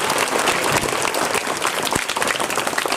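Loud, dense applause from the crowd at an Independence Day dance programme, honouring the dance teacher; continuous clapping fills the whole stretch, close and energetic, with no voices over it.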